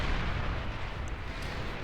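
Artillery barrages in the real-time strategy game Beyond All Reason, a continuous rumbling wash of distant booms and bursts with no clear breaks, fairly loud and without talk.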